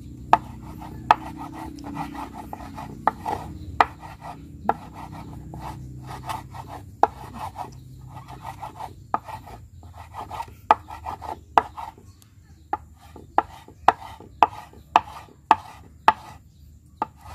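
A sharp knife chops silk worms on a board as betta fish food, each cut a crisp isolated tap in an irregular rhythm that quickens and grows louder toward the end, close up with no voices.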